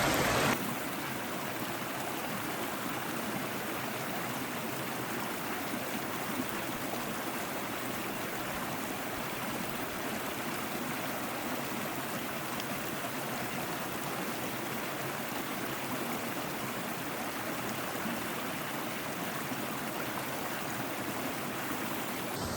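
A small mountain waterfall pours into a stream, a steady, full rushing of water close by that stays constant throughout with no voices.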